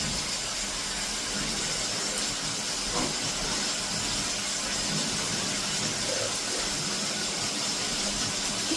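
Potato and cauliflower frying in a pan: a steady, broad sizzling hiss runs unbroken and close, with faint crackles and a few soft clinks on top.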